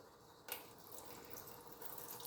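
Water is poured into the pan of a bread machine, a soft, faint splashing pour starting abruptly and running steadily to the end.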